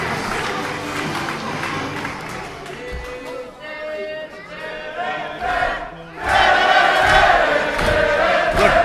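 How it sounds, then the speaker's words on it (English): Wrestling arena crowd in a match between Joe Coffey and Tommaso Ciampa, a loud continuous roar of cheering and shouting that dips briefly mid-way then surges louder near the end. "The crowd are so behind the Iron Man"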